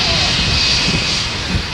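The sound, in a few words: jet airplane passing low over Maho Beach, Saint Martin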